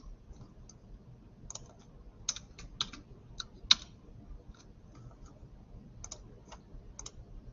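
Keys clatter on a computer keyboard while a spreadsheet formula is edited, quiet, close, irregular clicks in short bursts with gaps between them.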